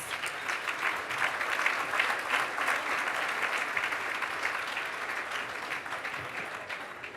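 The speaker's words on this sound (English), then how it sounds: "Give her a big round of applause." An audience at an awards evening gives a sustained, full round of applause welcoming the CEO of Research Australia, dense even clapping holding steady and easing slightly toward the end.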